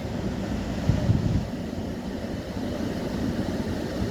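Strong wind gusts across the microphone at Noordskloof Point on a rough-sea coast, giving a steady low buffeting roar with a brief heavier thump near the start.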